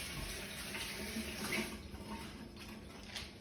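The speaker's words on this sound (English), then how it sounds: "We're just going to quickly wash our hands." Tap water runs steadily into a kitchen sink while hands are washed during pork pie making, a faint continuous splashing hiss with small shifts as the hands move under the stream.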